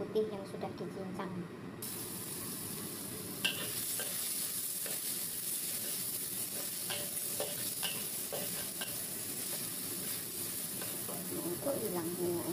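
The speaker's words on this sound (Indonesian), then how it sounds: "Terus dimasukin bawang putih yang sudah dicincang." Minced garlic sizzling and frying in oil in a pan while prawns are stir-fried sweet and sour, a steady hiss with occasional stirring scrapes, and a person speaking faintly now and then.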